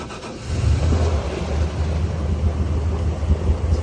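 Pump engine aboard a fireboat catching and settling into a low, steady idle rumble, moderately loud with a faint high whine above it.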